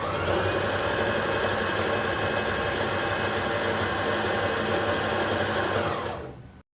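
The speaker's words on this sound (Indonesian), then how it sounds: "Brothers JV 1400 ini bisa menjahit dengan baik dua lapis bahan jeans" A Brother JV 1400 sewing machine stitches through two layers of denim with a steady, loud, fast mechanical whir and rattle that runs unbroken for about six seconds, then stops abruptly.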